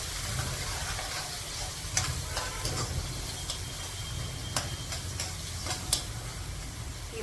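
Mint leaves frying in hot oil in a pan for a mutton curry give a steady close sizzle with scattered light ticks and clicks of stirring, and no voices.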